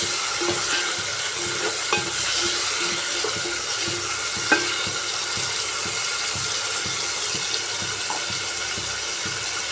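Ingredients for homemade sambar frying in a pan, a steady sizzle with faint stirring scrapes and occasional clinks throughout, close and moderately loud with no talk.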